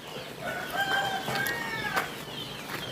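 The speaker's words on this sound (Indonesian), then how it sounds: "Ayam sorry mengganggu guys." A chicken near a rural home clucks and calls in a few drawn-out, rising notes, close by and fairly loud over a soft outdoor background.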